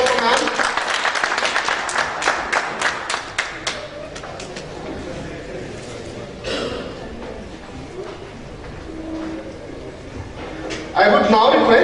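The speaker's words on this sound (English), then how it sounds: "Can we have a huge round of applause for ma'am?" A conference audience at an e-governance event applauds, a burst of dense clapping at the start that fades into murmurs and an announcer's voice, with another round of clapping near the end.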